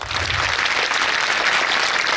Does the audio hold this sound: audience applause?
yes